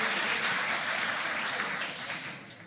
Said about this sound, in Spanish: Palmas para ella también.